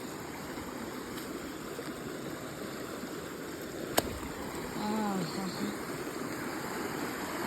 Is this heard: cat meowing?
no